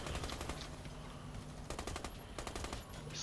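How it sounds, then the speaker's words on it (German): Rapid automatic gunfire in the shooter game Warface, during a hard Icebreaker mission, steady dense bursts with brief pauses, continuous and fairly close, no talk. "Immer noch schießen wir schneller."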